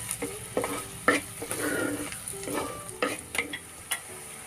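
Chopped onions for a Kerala-style prawn roast sizzle and fry steadily in a hot pan, with repeated stirring scrapes and clinks breaking through the constant hiss, close and fairly quiet.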